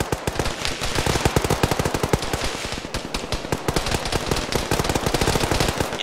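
Sustained automatic gunfire in the military shooter Arma 3, a fast steady stream of sharp, loud shots that hammers on without a break.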